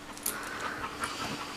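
A newly bought puppy panting quickly and steadily, quiet and close, with a few faint breathy catches and no talking.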